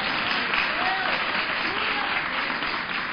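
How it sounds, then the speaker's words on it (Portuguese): A church congregation applauds in praise, a steady dense wash of clapping held at an even level throughout, with some voices mixed in. "Vamos aplaudir a Deus"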